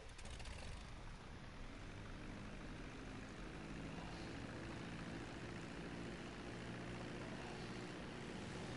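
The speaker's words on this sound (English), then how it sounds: "The airplanes." Propeller airplanes flying in the video game GTA 5, a steady loud engine drone with broadband rumble that holds unbroken throughout, with no talking.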